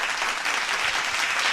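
Steady applause from a crowd, dense hissing clapping that holds at an even level throughout, fairly loud and unbroken, with no voices over it.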